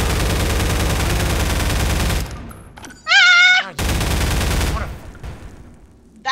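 Shotgun fire in the video game Garry's Mod forms loud, dense blasts of noise in two long stretches, broken by a short high, wavering cry in between, with a player voice faintly present.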